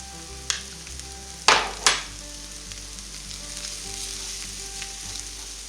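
Three sliced scallions drop into a hot pan of fried rice with two loud hissing bursts, then a steady sizzle of frying continues alone.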